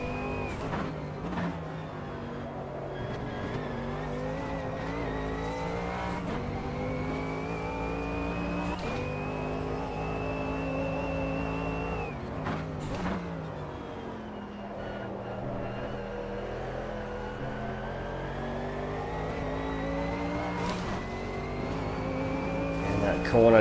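A race car engine in a racing video game revs continuously and loudly, its whine climbing through each gear before dropping sharply on shifts and braking, with occasional thuds from wall impacts.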